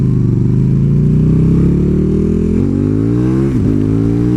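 A KTM Super Duke 1290 motorcycle engine runs loud and close while being ridden, a strong, rising growl as it accelerates before easing off briefly near the end.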